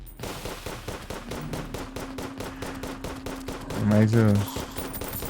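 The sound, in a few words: Onyx Blaster gunfire in the video game Terraria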